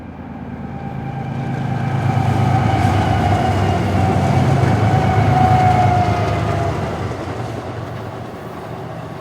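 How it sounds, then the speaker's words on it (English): A westbound intermodal freight train rumbles past near East Oro Grande along the Mojave River, swelling to a loud, steady roar with droning wheel and engine tones before easing away. "a westbound intermodal train came by with fall foliage in abundance"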